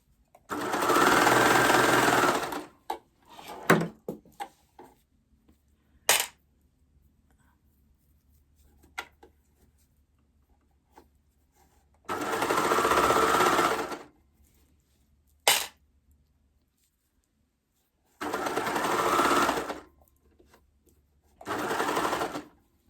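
Sewing machine stitching fabric for a raglan top, several loud, close bursts of rapid whirring separated by quiet pauses, with a few small clicks and faint handling sounds between runs.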